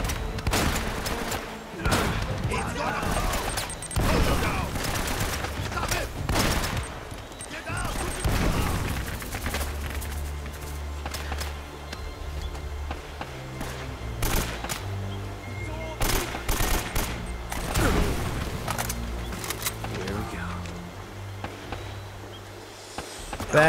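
Heavy gunfire from a firefight in Uncharted: Drake's Fortune, with repeated loud shots, machine-gun bursts and booming impacts, some thuds and slams, and a few speech-like sounds among the chaotic action.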